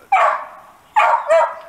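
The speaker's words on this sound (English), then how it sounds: "The dog's going nuts." A dog barks twice, loud and close, with short yappy, slightly whiny barks separated by a brief pause, during engine testing of a Honda XL250S motorcycle.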